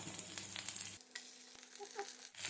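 Curry leaves drop into hot oil already holding cumin, pepper and crushed garlic for a fish curry, giving a brief soft sizzle that quickly dies down to faint scattered crackles over a low hum.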